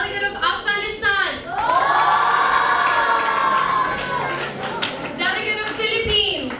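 A hall crowd at a Model United Nations closing ceremony erupts in loud, sustained cheering and high whoops for honorable-mention delegates, the roar swelling and holding for several seconds.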